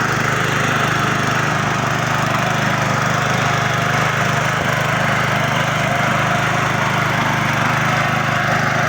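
Walk-behind tractor tilling soft soil: a loud, steady mid-pitched engine drone with a low hum underneath and a gritty churning texture, continuous and close, with no speech.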